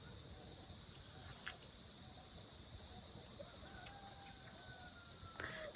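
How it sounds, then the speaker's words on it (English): Roosters crow from farms in several directions around West Michigan hardwoods, thin and distant calls drifting over a steady outdoor hiss, with a few brief sharper sounds closer by. "Got roosters crowing in every direction at all these farms."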